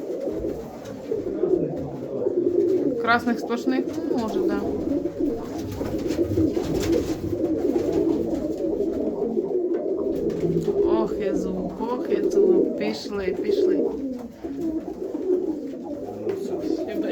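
Pigeons coo steadily in a breeder's loft, soft rolling calls close by that run throughout, while people talk over them in Ukrainian.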